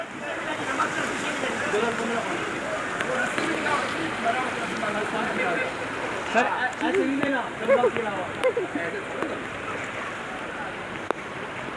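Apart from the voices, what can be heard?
rushing floodwater from heavy rain in Karachi street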